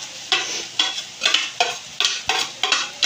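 Garlic and onion sizzle in a pan, heard close up with rhythmic scraping bursts about twice a second as the pieces are stirred. No voices.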